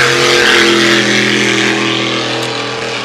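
A racing hydroplane at full throttle during Valleyfield Grand Prix time trials, its engine a loud, steady, harmonic roar that holds close and constant throughout.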